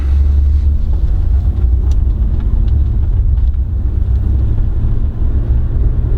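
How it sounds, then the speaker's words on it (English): A 2005 Lexus RX 300 mid-size SUV with a V6 engine accelerates up to highway speed, giving a loud, steady low rumble mixed with wind and road noise and no talking. "the V6 comes to life, hauling this mid-size SUV"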